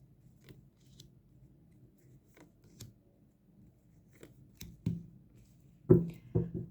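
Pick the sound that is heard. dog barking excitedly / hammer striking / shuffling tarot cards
shuffling tarot cards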